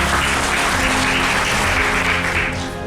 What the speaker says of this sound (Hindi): एक बार सर के लिए जोरदार ताली